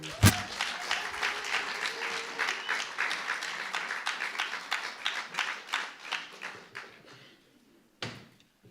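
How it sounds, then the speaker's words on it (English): Audience applause after a live music set at The Bedford, a sustained round of clapping that thins out and fades near the end, followed by a brief thump. "Ladies and gentlemen, one more time, big round of applause"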